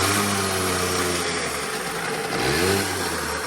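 A Yamaha Yamahopper moped engine runs at full throttle with nitrous, a buzzing small two-stroke note that sags and dips in pitch midway before revving back up, close and fairly loud.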